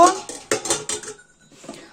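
Metal saucepans and pots clatter and clank together in a kitchen: a quick series of sharp, close knocks, then a brief pause and a few lighter clinks.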